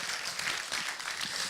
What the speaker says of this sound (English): Can we have a round of applause for Rebecca, please?